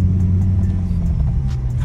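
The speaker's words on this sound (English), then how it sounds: "we just ran into this random Beamer with this crazy burble tune just going crazy" A BMW with a burble exhaust tune rumbles loudly nearby in a brief burst, deep throaty exhaust at a car meet with faint crackles.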